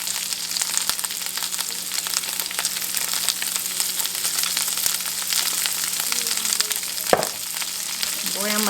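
Hominy sizzles and fries steadily in a frying pan, a continuous close crackle with a brief sharp clatter near the end, no talking.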